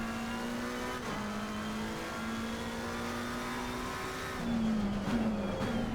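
A race car in Assetto Corsa Competizione accelerates out of a turn at the Barcelona circuit, its engine droning in a steady, rising tone with brief dips at gear shifts, loud and continuous throughout.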